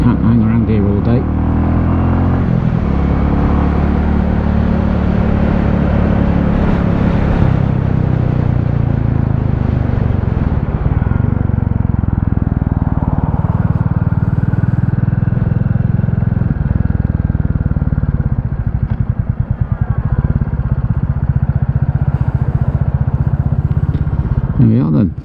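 Royal Enfield motorcycle on a group club ride out toward Greenham Common, its engine droning steadily and loudly throughout with close wind rush and shifting revs as it accelerates and cruises.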